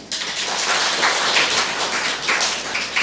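A church congregation applauds steadily, a dense wash of many hands clapping close by, holding at an even level throughout without any voices.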